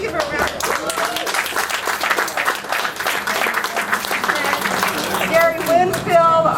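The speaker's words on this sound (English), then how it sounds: "Can we give her a round of applause?" Loud, sustained clapping and crowd noise from attendees at an outdoor press conference for a new care site, dense applause with some cheering voices rising near the end.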